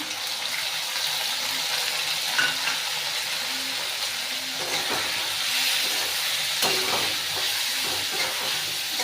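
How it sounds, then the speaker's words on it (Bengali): Potatoes frying in a pan with chilli powder and turmeric, a steady close hiss and sizzle with occasional stirring scrapes, no talking over it. "আমার এখানে দেখালাম আলুটা ভাজা হচ্ছে"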